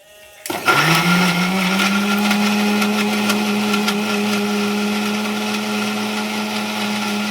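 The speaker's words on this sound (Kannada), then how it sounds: "ನೋಡಿ ಇದು ಈ ರೀತಿ ರುಬ್ಕೋಬೇಕು." A mixer grinder starts abruptly and whirs steadily at close range, grinding a fried masala paste with hot water, a loud continuous motor drone with rattling grinding on top, no talking.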